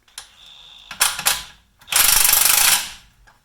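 Power impact tool tightening camber bolts on a lowered Saab 9-3, a short whirr and clacks followed by a loud rapid hammering burst lasting under a second, close and alone.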